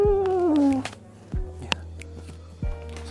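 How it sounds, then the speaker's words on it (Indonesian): A cat meows a few times up close, the first call long and falling, followed by scattered clatter and soft thumps of a café setting with a person speaking nearby. "Oh, kucing."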